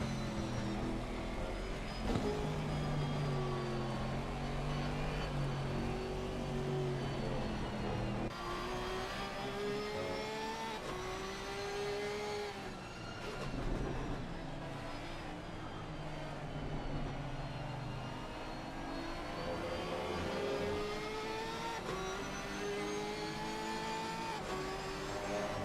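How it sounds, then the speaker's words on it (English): Porsche and Aston Martin race car engines in Assetto Corsa Competizione at Paul Ricard drone and whine steadily, pitches rising and falling through gear changes as the cars run close together, with no voices. "I don't know that you have two more different sounding cars in ACC than the Porsche to the Aston."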